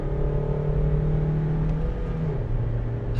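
A 2025 Honda Amaze accelerates in third gear, heard from inside the car as a loud, steady engine drone that rises in pitch, then drops briefly near the end.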